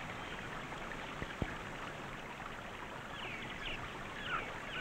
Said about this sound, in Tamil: இந்த அருவியோட சத்தத்தை கேட்டுட்டு இருந்தா